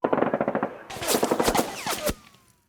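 Submachine gun fire effect for a tabletop wargame battle: a rapid burst of shots followed by a denser, louder volley with sharp cracks, ending in a brief fading tail, close and punchy.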